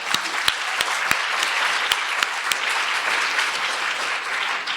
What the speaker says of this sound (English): join me in having a huge round of applause